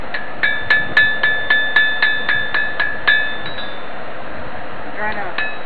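A hammer strikes a knife blade on an anvil in an outdoor forge tent, about a dozen sharp ringing metallic blows in steady rhythm, then a pause and a few lighter taps.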